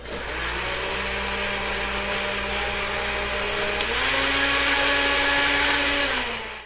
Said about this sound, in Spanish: ¡Licuadora!